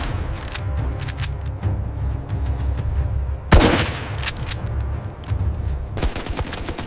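A film shootout in the Chambal ravines between dacoits and police erupts in dense bursts of automatic gunfire, rapid cracking volleys punctuated by one loud close blast midway, then more scattered shots.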